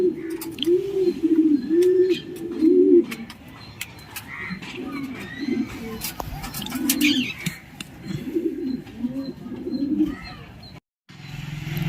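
Racing homer pigeons coo in a loft, with a close run of rhythmic, rolling coos at the start and more scattered coos and faint chirps later.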